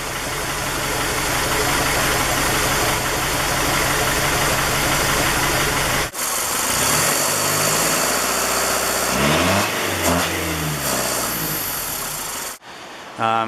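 A 1979 Toyota Land Cruiser BJ40 engine idles through a 2.5-inch exhaust with a MagnaFlow muffler in a steady, quiet, low rumble, close by, with a few brief shifts in tone toward the end.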